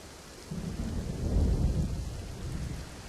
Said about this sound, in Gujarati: તો સુરતના કીમ વિસ્તારમાં ધોધમાર વરસાદ.